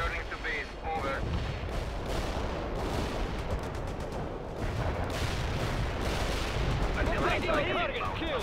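Artillery strike and gunfire in the war game World in Conflict: a dense, continuous barrage of booming impacts and rattling shots fills the whole stretch at a steady, loud level.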